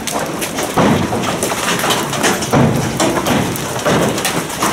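Large hailstones pound a roof in Yuzhnoukrainsk, making a loud, dense rattling roar that swells in repeated surges with no pauses.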